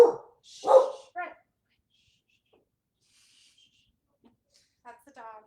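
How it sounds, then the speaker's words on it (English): A dog named in a group meeting call barks in short bursts near the start, followed by faint whimpers and a later voice. "That's the dog."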